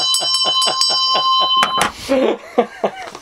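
A bell rung as a sound effect on a film podcast gives a rapid run of bright, ringing strikes. Laughter and chatter take over at the end.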